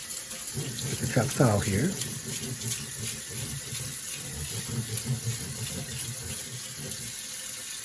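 Tap water runs steadily into a bowl of glutinous rice being rinsed and drained, with sloshing and gurgling throughout. A voice speaks briefly over the flow near the start.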